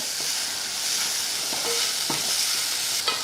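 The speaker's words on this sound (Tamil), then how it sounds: "அடுத்து மஞ்சள் தூள், பெருங்காயத்தூள் கொஞ்சம் போட்டு கலந்து விட்டுருவோம். நல்லா லைட்டாக ஒரு வதக்கு இந்த மாதிரி வதக்கி விட்டுட்டு" Turmeric and asafoetida sizzle lightly in a pan for rasam, a steady soft frying hiss broken by a few spoon scrapes and clinks against the metal.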